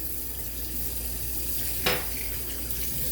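Water running from a tap for rinsing, a steady close hiss of flow throughout with one brief splash partway through, no talking.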